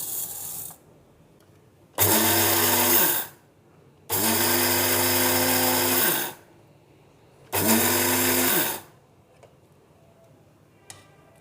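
An electric grinder grinds dry rice in three loud bursts of about one to two seconds each, with short quiet gaps between them. Each burst has a droning motor whine and a gritty rattle of grains.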